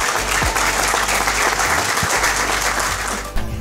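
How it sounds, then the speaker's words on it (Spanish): A crowd applauds at an outdoor municipal event celebrating new street works, producing a loud, dense, sustained roar of clapping over a low rumble, with a brief thump near the end. "un aplauso para Nayib."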